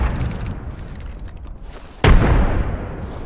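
A grenade blast in a battle royale shooter, a loud, sudden boom that rings out over steady game noise and then stays as a dense rumble.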